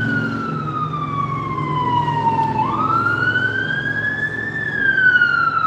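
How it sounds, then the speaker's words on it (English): A police car siren wails, sweeping down and back up in pitch as it moves past, over a steady background of road traffic in Guadalajara, Mexico. "I'll wait for the police cars to go by."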